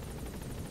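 Helicopter in the Metal Gear Solid V: The Phantom Pain video game, a steady, close rotor whir with a faint pulsing beat running unbroken for under a second, alone.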